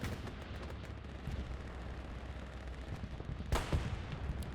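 Bombing run in a World War II multiplayer shooter match on the Foy map, rumbling explosions and gunfire rolling continuously, with a sharp loud blast near the end.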